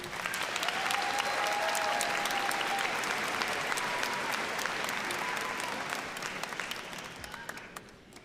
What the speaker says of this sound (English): Let's give Emily a round of applause, please.